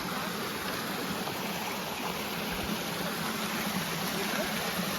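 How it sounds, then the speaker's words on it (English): A waterfall beside a footbridge on the Black Forest Trail in Pennsylvania, a steady, loud rushing roar of falling water with no break. "You got this waterfall."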